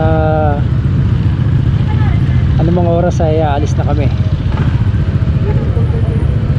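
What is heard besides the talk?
motorcycle engines warming up, idling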